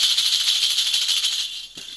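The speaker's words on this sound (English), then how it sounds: "Do you have your sleigh bells?" Sleigh bells jingle in a quick, even shaking rhythm, bright and close, then stop abruptly near the end.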